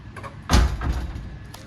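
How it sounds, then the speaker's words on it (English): Greenhouse doors being pulled shut, one solid thud and rumble of the door sliding closed after some light handling noise, fairly close. "I don't think we've ever showed you us closing these doors"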